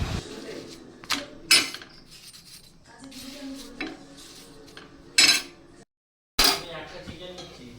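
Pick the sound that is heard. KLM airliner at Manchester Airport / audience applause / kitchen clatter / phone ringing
kitchen clatter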